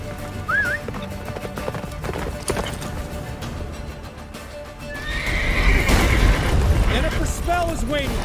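Roach, the horse in The Witcher 3, gallops with pounding hoofbeats that build toward the end. There are whinnies and rumbling booms, and characters speak throughout.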